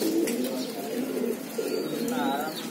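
Low, repeated cooing comes from a favourite pigeon in a Bangladeshi pigeon loft, soft throaty calls close by over a faint background hum.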